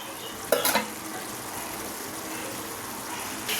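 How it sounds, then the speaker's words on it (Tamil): Tamarind curry with small onions sautéing in a pan, a soft continuous sizzle with a brief burst of stirring scrapes near the start and another at the end. "நல்லா ஒரு வதக்கு வதக்கி விடுங்க இந்தளவுக்கு கிளறி விட்டுக்குங்க"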